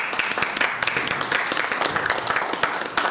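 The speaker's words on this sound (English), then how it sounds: "Let's give a round of applause to these gentlemen." Audience applause for candidates at a State Board of Education forum, with individual claps standing out in a moderate, somewhat uneven burst that continues steadily.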